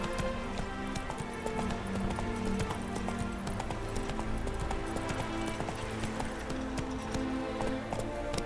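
In The Witcher 3 video game, a horse gallops with steady rapid clip-clop hoofbeats, close and continuous, under a soft ambient game backdrop.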